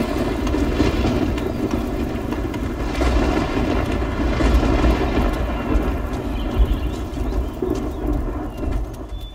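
Thunderstorm ambience in the video game Risen 2: steady loud rain-like wash with low rumbling thunder swells throughout, no speech.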